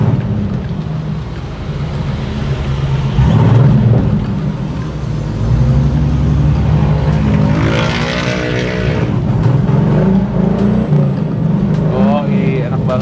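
A fully restored International Scout engine runs loud and steady close by with a deep rumble, while people talk over it throughout.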